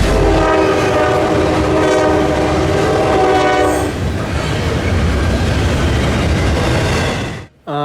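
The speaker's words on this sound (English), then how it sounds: "Not one, but two Norfolk Southern trains came at the exact same time, both getting blocked by I-115." Two Norfolk Southern freight trains pass together at a junction. A loud sustained horn blares for several seconds over the close roar and rhythmic clatter of the wheels, then the rumble continues alone before cutting off abruptly.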